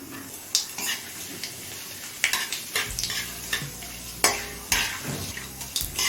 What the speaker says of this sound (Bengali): জিরে তেজপাতাটা তিরিশ থেকে চল্লিশ সেকেন্ড ভেজে নিলাম